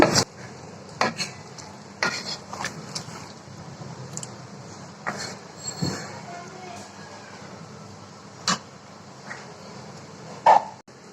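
Half-boiled vegetables go into a hot pan with a sizzle, followed by steady scraping and stirring and a few sharp clinks of a utensil against the pan, with sounds of a home kitchen around.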